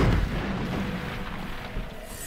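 A bomb explodes in the mobile game Castle Crush, with a heavy rumbling boom at the start that settles into a sustained low roar and a few smaller pops, loud and close.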